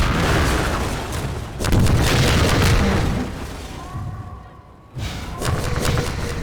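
Rocket explosions boom in a VR shooter, several heavy thudding blasts rising out of a loud rumbling mix, with a brief lull before another strong impact, while a voice talks now and then.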